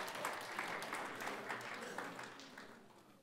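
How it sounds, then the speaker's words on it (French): Morning church service audience applauding a winner, a steady wash of clapping at moderate-to-faint level lasting a few seconds. "On applaudit le vainqueur ce matin."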